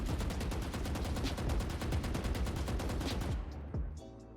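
Automatic rifle fire in Valorant, a rapid unbroken burst of shots held for about three seconds and then abruptly stopping, loud and close, followed by brief quiet game sounds.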